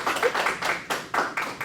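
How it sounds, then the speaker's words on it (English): A small audience at a school presentation claps in a few loose, uneven bursts, fairly quiet and brief. "you need to give yourselves a round of applause for being smart"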